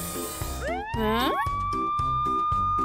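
A cartoonish police-car siren from a children's cartoon wails and warbles up and down, mixed with bouncy rhythmic music in the background.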